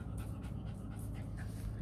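A dog pants close by in the Vietnamese countryside of Quang Nam, a steady breathy rhythm over a constant low rural hum, with no talk.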